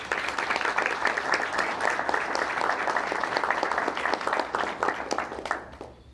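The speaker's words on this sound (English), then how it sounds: "Let's give him a big round of applause." A big round of applause from an open-house audience, steady and fairly loud clapping from a room full of people that continues throughout and eases off slightly at the end.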